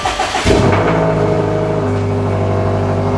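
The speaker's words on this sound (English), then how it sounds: "I just want to hear the car again. I just want to start it." Subaru Outback XT with a 400 WHP build and a check engine light, its engine revving sharply then settling into a loud, steady idle close by, with no talking.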